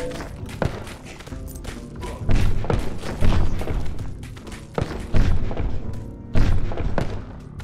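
Bomb explosions and combat hits in the twin-stick action RPG Rum & Gun, a rapid series of loud thuds and booms at an irregular rhythm, mixed with other game effects.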